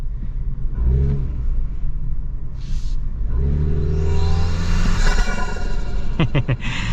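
A 2025 Toyota 4Runner Trailhunter SUV crawling off-road with no throttle, giving a steady low engine rumble and whir with tire crunching and a few brief squeaks, close and continuous.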